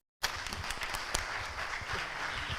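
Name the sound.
audience applause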